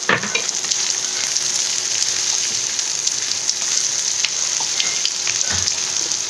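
Cashew nuts fry in hot oil in a pan, giving a loud, steady sizzle with faint stirring clicks throughout.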